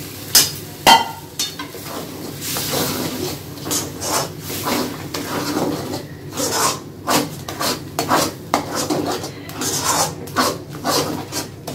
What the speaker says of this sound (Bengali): নাড়তে থাকবো। আর এই বাটি ধোয়া ডালটা আমি এতে দিয়ে দেবো।